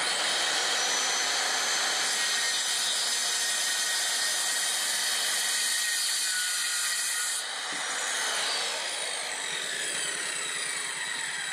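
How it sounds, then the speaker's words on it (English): A power saw cutting boards for a 20-ton tilt deck trailer being refurbished, a steady loud whining drone running the whole time and shifting slightly in pitch partway through as the blade works through the wood. "So let's get started sawing these boards and getting this thing back together."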